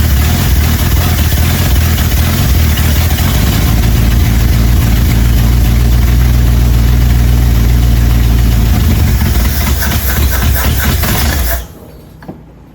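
A neglected 1978 Dodge D150 pickup, sitting for twenty years and needing carburetor work, runs with its choke pulled, a loud steady rumbling engine idling close by for several seconds before cutting off abruptly.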